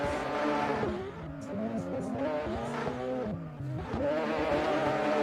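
Mazda RX-7 drift car at a competitive drift event in Miami, engine revving hard and wailing continuously with shifting pitch, tires likely squealing, loud and close throughout.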